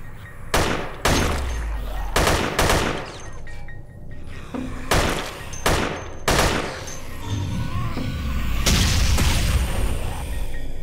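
Loud explosions and repeated blasts in the zombie shooter Dead Effect, several heavy booms spaced through the clip with a sustained rumbling burst near the end, no talk over them.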